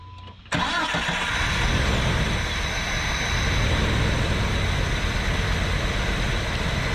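Jeep Wrangler TJ engine starting: a short, quiet moment, then a sudden loud catch as the motor fires and settles into a steady, rough idle that runs on with no talking.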